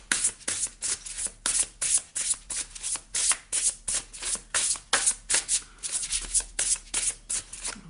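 Tarot cards being shuffled by hand, rapid rhythmic riffling bursts repeating about twice a second, close and crisp throughout with no talk.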